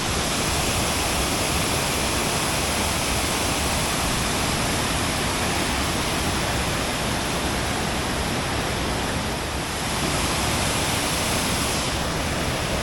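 A powerful waterfall tumbling down several levels in a Yorkshire cave area, a loud, steady full-band roar that continues unbroken throughout.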